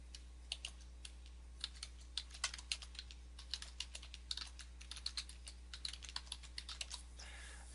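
Quick bursts of keystrokes on a computer keyboard while entering a domain name, irregular clicking taps in short runs over a steady low electrical hum, close and fairly quiet, no talk.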